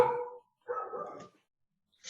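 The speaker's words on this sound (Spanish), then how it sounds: "tengo vecinos acá que tienen perros y hay ratos en que estos perritos comienzan a hacer bulla" Neighbourhood dogs bark in two bursts of yapping, fairly close and clear, separated by a short pause, with another bark starting at the end; no talking.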